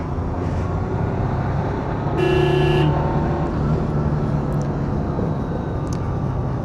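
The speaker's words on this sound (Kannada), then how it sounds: "ಸೌಂಡ್ ನೋಡ್ಬೋದು ಕಾರ್ದು ಎಷ್ಟು ಸಖತ್ತಾಗಿ ಕೇಳಿಸ್ತಿದೆ ಅಂತ" A Maruti 800's engine drones steadily from inside the car while driving, a constant close rumble with a brief higher whine partway through and no talking.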